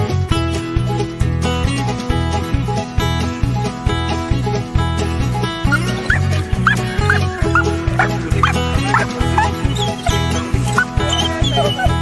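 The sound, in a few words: dog barking and whimpering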